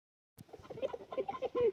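Chickens and little chicks cluck and peep softly on a woodland homestead, a brief, faint burst of close fowl calls.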